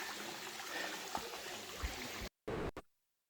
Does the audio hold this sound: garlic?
no